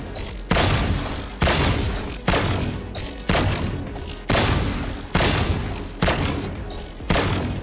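Rapid single gunshots in the tactical shooter game VALORANT, fired while practising aim with a pillar, about eight loud evenly spaced blasts, each sharp crack trailing off into a decaying tail.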